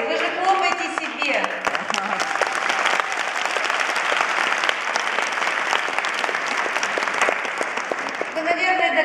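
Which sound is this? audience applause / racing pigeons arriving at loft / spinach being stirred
audience applause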